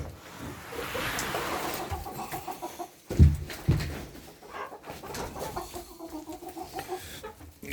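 Many hens clucking together near a feed pail on a ranch, a steady layered chorus of short calls with a couple of louder bursts midway and no voices.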